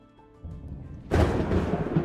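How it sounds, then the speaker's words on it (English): Thunder rumbling in a flight simulator game, a soft low murmur that suddenly swells into a loud, broad rolling crash lasting to the end, with no talk over it. "Just heard thunder."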